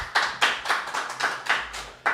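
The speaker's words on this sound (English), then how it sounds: "So let's have another round of applause to say thank you so much to Helen North" A handful of sharp, evenly spaced hand claps, about eight in just over two seconds, close and fairly quiet, with no talking.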